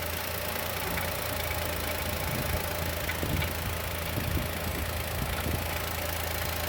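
Engine of a new naturally aspirated Chevrolet Onix running with an unwanted noise, a steady close idle drone carrying faint rhythmic ticking throughout, with no talk over it.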